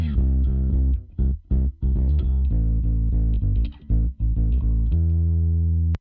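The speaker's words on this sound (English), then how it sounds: "he played through a sort of a distortion kind of a amp model or pedal, so it has some nice grit to it" A solo bass guitar played through a distortion amp model or pedal gives gritty, sustained notes in a phrase of choppy bursts, ending on one long held tone, loud and up front.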